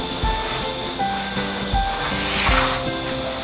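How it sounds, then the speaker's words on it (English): Steady, loud blowing hiss of a hurricane-type dog hair blower drying fur, running continuously, with low thumps and shifting airflow, no speech. "Hold the dryer as close as possible to the fur."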